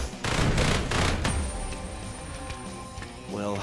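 Turret gunfire in the 2022 video game Repetendium: a fast burst of booming shots at the start, followed by game sound effects and a rising synthetic tone, with no voice.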